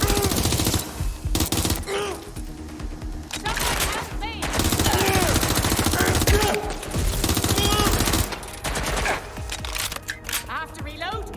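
Sustained automatic gunfire and bursts of shots rattle loudly through a battle scene in Watch Dogs: Legion. Voices call out at moments under and between the firing.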